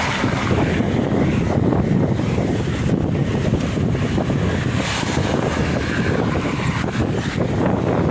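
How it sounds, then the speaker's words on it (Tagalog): Strong wind after a typhoon roars and buffets the microphone nonstop, a loud, dense rumble with no break and no voices. "Oh, lakas ng hangin"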